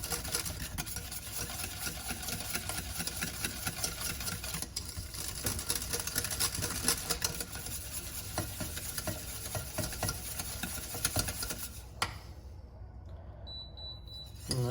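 Cheese is stirred into a sauce in a pot on the stove for mac and cheese, a steady close scraping and sizzling that runs about twelve seconds and then drops away to near quiet.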